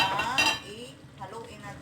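Thai green curry chicken with basil leaves being stirred in a pot: a few clinks and scrapes of a utensil against metal, with a voice speaking softly underneath.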